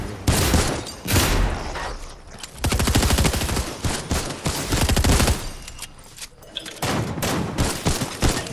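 Intense gunfire in a shooter video game, repeated loud bursts of rapid automatic shots separated by short gaps, close and dominant throughout with little talk.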